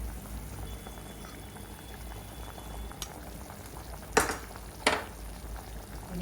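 Sambar boils in a pot with a soft, steady bubbling and simmering close by, broken by two brief louder splashy bursts near the end, with no talking.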